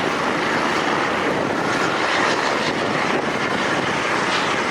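Helicopters flying past at an air show demonstration give a loud, continuous broad roar with some rhythmic rotor beating, steady throughout.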